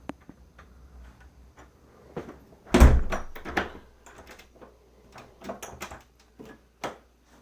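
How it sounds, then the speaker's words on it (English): A house door leading up the stairs to the backyard, heard as a series of close clicks and latch ticks around a loud thudding bump, then scattered lighter knocks and rattles. "This is the door that goes up the stairs into the backyard."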